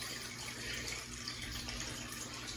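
Layered fluid art paint pours steadily out of a cup in a continuous wet, rushing stream that stays even and fairly close throughout.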